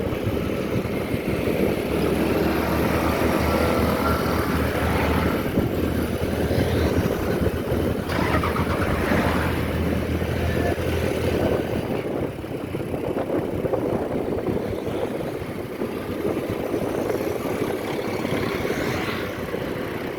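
A steady, rumbling motorcycle loader truck engine drones continuously for the whole stretch, close and unchanging, with no voices.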